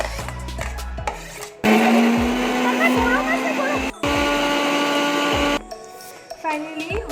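A mixer grinder whirring loudly as it grinds chutney ingredients into a paste, two sustained motor runs separated by a short pause, with quieter clatter and a voice before and after.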